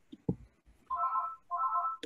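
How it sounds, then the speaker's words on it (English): A telephone rings in another room, two muffled electronic ring bursts in succession, moderately faint, after a couple of soft knocks. "The phone's ringing again."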